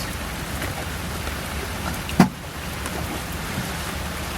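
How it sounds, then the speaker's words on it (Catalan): Heavy rain pours onto a sailboat anchored beside a port in Las Palmas, a dense, unbroken roar close around, with one sharp knock partway through. "i no para de ploure"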